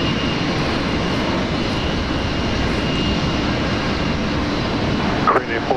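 A plane taking off at Brisbane Airport gives a loud, steady engine roar that fills the whole stretch, with no break.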